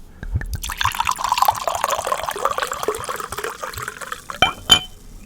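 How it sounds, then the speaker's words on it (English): A drink pours into a glass for about five seconds, a steady splashing, gurgling stream that tapers near the end, followed by a couple of brief clinks or drips. "So, folks, put your volume up. It's time for the pour."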